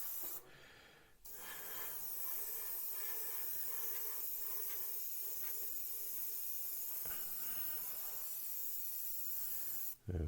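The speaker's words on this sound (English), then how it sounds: "so we get a nice spread of paint, and we just walk it across the surface" Airbrush or spray can hissing steadily as paint is misted in even coats across a plastic Revell Lockheed Ventura MkII model kit, close and continuous for nearly the whole stretch, with a short break near the start and end.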